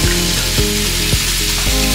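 Mie tek tek noodles with cabbage and seasoning fry loudly in a pan at a street stall, a steady close sizzle with repeated scraping stir strokes, with no talk.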